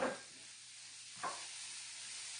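Purple onion hits a hot pan with a soft burst of sizzling, then a second brief crackle as it is stirred, followed by a quiet, steady hiss.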